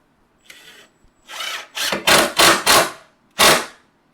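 A power drill drives a screw into wood in several short, loud bursts, each rising and cutting off, with a brief quieter run at the start; no talking.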